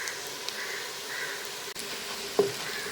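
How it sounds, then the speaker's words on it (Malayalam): Ingredients for a Malayalam-style egg biryani are being fried in a pan until golden. A faint, steady sizzle runs under a couple of soft clinks and one brief scrape, quiet and close, with no voices. "ഒരു ഗോൾഡൻ കളർ വരുന്നവരെ ഒന്ന് മൂപ്പിച്ചെടുക്കാം."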